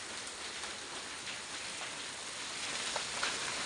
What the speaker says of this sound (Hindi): देखो ओले पड़ रहे हैं करके और क्या पता रुक जाए